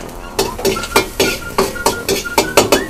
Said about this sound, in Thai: ใส่ถั่วงอกไปเลย ผัดถั่งอกไม่ต้องใส่อะไรเยอะเลย